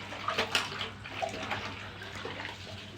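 Puja items are washed by hand in a small bucket of water, giving soft, continuous splashing and sloshing at close range with a low background hum and no talk.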